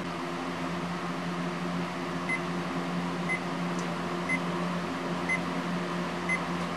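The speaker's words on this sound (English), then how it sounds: "There's your alarm. Coming through the speaker." An electronic alarm from an Onn ONMAAC301 clock radio beeps through its speaker in a regular once-per-second pattern, thin and small over a constant hum of fan or appliance noise.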